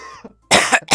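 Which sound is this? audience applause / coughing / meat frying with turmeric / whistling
coughing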